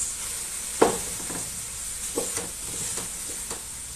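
Almeres spread mixture sizzling in a hot pan while being stirred, a steady fry hiss with a few soft scraping knocks of the spoon, close and moderate, with no talking.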